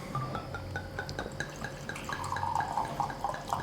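Santa Julia Malbec red wine, 2021, is poured into a small sampler glass, giving a quiet, steady liquid trickle with faint glassy drips and clinks against low room noise.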